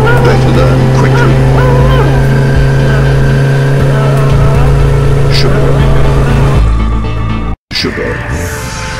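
Loud, droning engine hum of a motorbike in a VR video game, revving and shifting pitch, close and constant, with a voice speaking briefly over it near the end.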